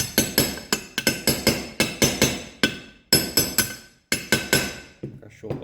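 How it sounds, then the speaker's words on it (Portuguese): A 6203 Nash ball bearing is hammered into a Honda 160 motorcycle engine case with a rapid series of sharp, ringing metallic blows, close and loud, in steady bursts with brief pauses. "vou montar o rolamento aqui que teve que ser substituído"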